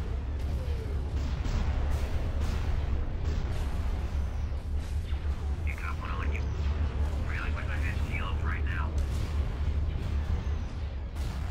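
Continuous rumbling space battle weapons fire and explosions in the Star Wars Empire At War game, a steady dense barrage with a brief game voice heard over it.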